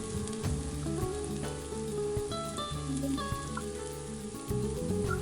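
Poha chivda is tossed and mixed with chilli powder, garam masala and salt in a pan, a continuous close sizzle with soft rustling and stirring, steady throughout with no talking.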